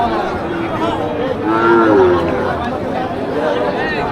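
Cattle low briefly amid steady crowd chatter at the Ambari cattle market in Dinajpur. A short moo rises above the busy, close background of talking voices near the middle.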